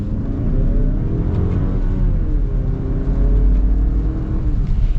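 A 2021 Mazda CX-30 Turbo Premium Plus with a 6-speed transmission accelerates hard in manual mode. A loud, continuous engine drone rises and dips slightly in pitch through the pull.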